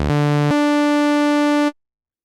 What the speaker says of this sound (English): on layer B, we're using the TB303 saw